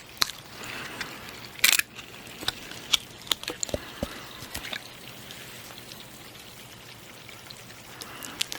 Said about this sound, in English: seltzer's literally like bubbling out of the can